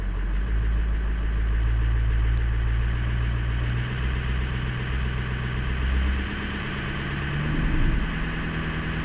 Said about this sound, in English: Let's give it just a little bit of throttle.